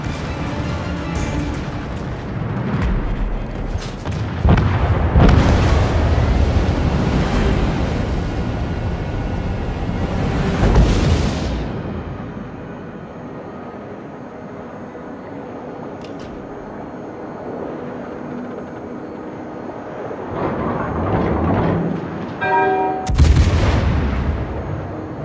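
Heavy booming detonations from torpedoes striking in a naval combat video game, loud and rumbling with several big blasts spread across the stretch and a sharp final burst near the end, no talk.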